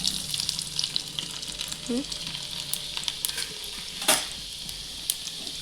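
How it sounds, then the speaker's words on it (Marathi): Mustard seeds, cumin and finely chopped garlic sizzle steadily in hot oil for a ridge gourd curry, a continuous close crackle with a few sharper pops and a brief clink partway through. "हे तेल आपलं तापले मोहरी तडतडती आपली आता बघ किती छान थोडे जिरे आणि टाकणार आहोत बारीक चिरलेला आपला लसूण"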